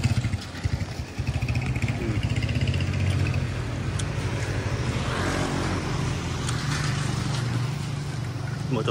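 A motorcycle engine running on a town street in Carmona, Cavite, a loud, continuous drone close by with clattering and street noise mixed in.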